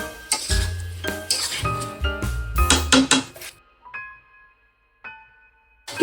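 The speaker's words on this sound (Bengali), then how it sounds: "নাড়িয়ে নেব।" Poppy seed paste is stirred in a cooking pan with potato and pointed gourd, giving close clinks and scrapes of a utensil against the pan in quick bursts, then a few sparse, isolated taps toward the end.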